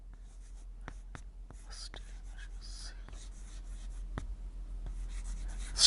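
A marker or chalk taps and scratches against a board during a biology lecture, giving scattered faint ticks and short strokes in a quiet room.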